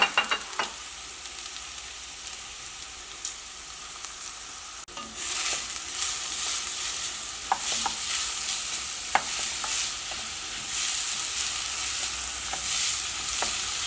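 Onions sautéing in a pan for mushroom masala, a gentle sizzle that grows noticeably louder and brighter partway through, with occasional light clicks of stirring and no talk.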